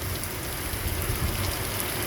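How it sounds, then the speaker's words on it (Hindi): Heavy rain pouring down during a monsoon-season downpour near Tanakpur on the road from Dharchula, a dense, steady hiss of drops with a low rumble beneath, continuous and close. "जबरदस्त बरसात हो गई बॉस"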